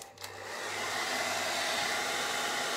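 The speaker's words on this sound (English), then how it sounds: "I'm gonna take the dryer to it for just a minute so I don't smudge anything." Handheld hair dryer blowing on a painted sign to set the marker, starting after a brief click and settling into a loud, steady, continuous whir close to the mic.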